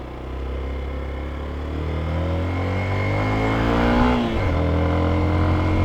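A motorcycle engine labours up a steep mountain road climb, a loud, close, continuous drone whose pitch rises gradually before a gear change, then carries on steadily under load.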